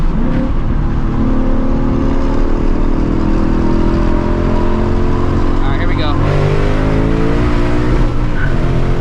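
A Ford Mustang GT S650 with a manual MT82 gearbox accelerates hard, its V8 roaring loudly and climbing through the revs with a gear change partway through, close and sustained for the whole stretch.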